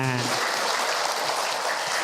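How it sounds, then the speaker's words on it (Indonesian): Audience applause at an Islamic study gathering, a steady wash of clapping filling the room for about two seconds, loud and continuous after a brief voice at the start. "Tepuk tangan."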